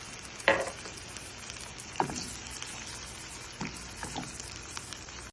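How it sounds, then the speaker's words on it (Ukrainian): Soft, steady sizzling of tomatoes frying in oil in a pan, with a few sharp pops and spatters scattered throughout. "зараз я буду а, на олії обжарювати помідорки"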